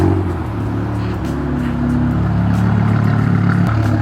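A BMW M6 with a V10 engine and F1-style exhaust runs steadily at a low, rumbling idle close by, with no speech.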